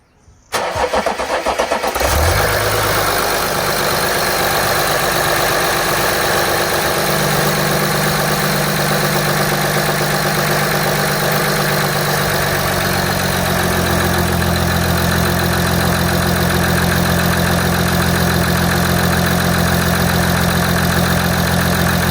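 A 2016 Audi A6 Allroad bi-turbo engine cranks and catches on first start after injector fitting, then settles into a steady, loud idle that runs on without interruption.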